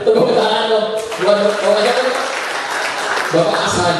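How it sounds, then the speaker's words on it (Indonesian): Audience applause at a public speaking training session, a dense clatter of many hands under continuous talking and cheering voices. "Tepuk tangan dong buat Bapak Asadi"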